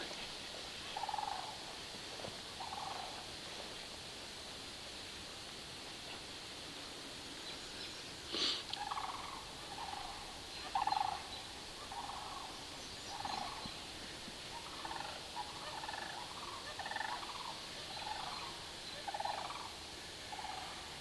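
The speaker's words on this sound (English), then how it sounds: "I hear a bird I want to check out." Soft, repeated gobbling bird calls come at irregular intervals from a distance over a steady hiss of ambient outdoor noise.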